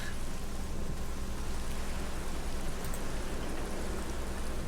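Steady rainfall in a video game, a dense, even hiss of falling rain with a faint low rumble beneath, constant and fairly loud throughout with no speech.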